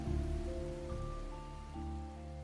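Steady rain hiss in the game Wuthering Waves, a broad even wash of falling drops over low game ambience and sustained musical tones, with no voices.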